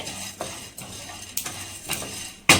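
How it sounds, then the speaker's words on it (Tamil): Vangi bath ingredients frying in a pan over a high flame, with a soft steady sizzle under several sharp metallic clinks of a utensil scraping and tapping the pan, the last one louder. "இப்போ வந்து பார்த்தீங்கன்னா நல்லா வந்து பொரிய ஆரம்பிக்குதுங்களா"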